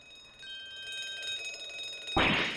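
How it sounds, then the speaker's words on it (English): An electric alarm bell aboard a ship in The Great Ace Attorney 2 rings with a thin sustained tone, then a louder burst of clanging cuts in near the end. "This appeared to be an alarm bell."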